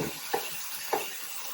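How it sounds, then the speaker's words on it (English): Garlic shrimp with cherry tomatoes sizzle steadily in a hot pan while a utensil stirs through them, giving two distinct scraping strokes over the constant frying hiss. "Now I'm stirring it all together."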